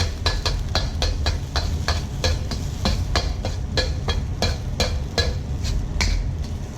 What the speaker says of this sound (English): scramble it, break it up, just like scrambled eggs